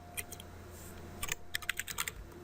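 Quiet keystrokes tapped on a computer keyboard while configuring a Cisco ASA 5510 firewall, a few isolated clicks followed by a faster run of light, close typing.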